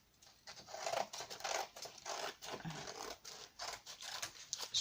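Scissors snip through the edge of a small handmade paper notebook in a series of close, crisp, rhythmic cuts with faint crinkling between strokes, heard alone without talk.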